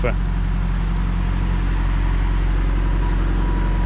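Car driving along a road in overcast weather, a steady low engine and road rumble that stays continuous and fairly close throughout, with no other sounds standing out.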